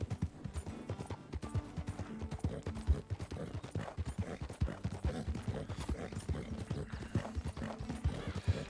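Hooves of a single horse clip-clop steadily in a roleplay video game, a dense rhythmic patter of hoofbeats close by running the whole stretch with a faint whinny, no speech.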